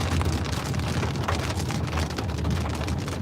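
Heavy rain hammers down steadily during a tornado-producing storm near Clear Lake, South Dakota, a dense, loud, continuous roar of drops on surfaces with no voices.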